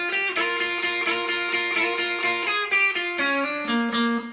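An electric guitar plays a riff with bright, slightly driven double-stop bends in a quick, steady shuffle. It is close and loud, stepping down in pitch toward the end, with no talking.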